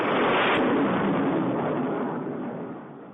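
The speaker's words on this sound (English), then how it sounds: "there's an explosion in the theme song" A deep, roaring explosion in a podcast theme song rumbles loudly and decays slowly over a few seconds, with no voices.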